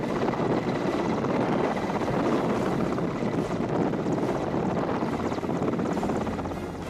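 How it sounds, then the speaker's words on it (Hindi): Indian Air Force Sarang display team helicopters fly at an air show, a loud steady rotor and engine roar with a faint pulsing beat, continuous and close, fading slightly at the end. "भारतीय वायुसेना की वो जांबाज हेलीकॉप्टर जो हवा में ऐसे आकार और फॉर्मेशन बनाते हैं"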